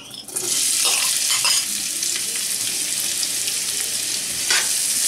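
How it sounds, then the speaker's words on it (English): Chopped onion hits hot oil in a pan and sizzles loudly and steadily for the whole stretch, a dense close-up frying hiss with a few brief stirring scrapes. "The oil seems to be quite hot now, and I'm going to put 1 medium chopped onion."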